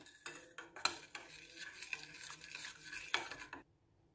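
A spoon stirs and scrapes ingredients in a bowl for chicken bread, with soft rhythmic clinks and a few sharper taps against the side; quiet and close, with no talking.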